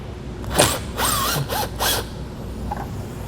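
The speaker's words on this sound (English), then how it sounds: "we have some Phillips head here as well as two on this side. So we're going to go ahead, get those loosened up" Phillips head screws being loosened on a 2021 Chevrolet taillight, giving a few short bursts of ratcheting, clicking mechanism noise up close, then a quieter tail.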